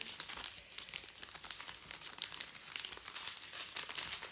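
A small Advent calendar gift being unwrapped, with soft, continuous crinkling and tearing of wrapping paper, close and quiet, and no one speaking.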